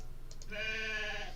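A sheep bleat sound effect from an RPG Maker video game plays once, a single sustained wavering bleat, clear and moderately loud against a faint background.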